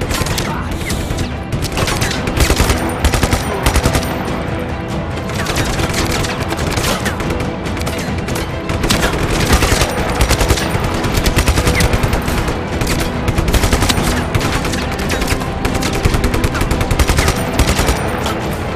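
Rapid automatic gunfire from weapons in the game Just Cause 3, with dense bursts of shots that run almost without pause over a busy, loud battle din.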